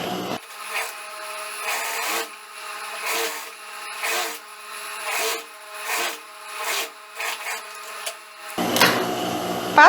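Sewing machine stitching 1 cm wide elastic onto a knit crop top: repeated short bursts of rapid mechanical stitching, each lasting about a second with pauses between, close and fairly loud, then a denser, noisier burst at the end.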